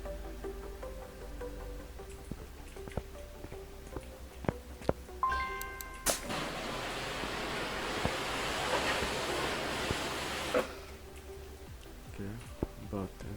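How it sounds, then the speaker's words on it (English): Car being washed in the Car Mechanic Simulator 2021 video game: a steady, loud hiss of spraying water runs for about four and a half seconds and then cuts off abruptly. Scattered interface clicks and a short run of rising beeps come before it, over a faint background hum. "First, let me give it a nice wash."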